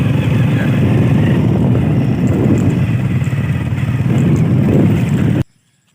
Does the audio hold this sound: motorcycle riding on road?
yes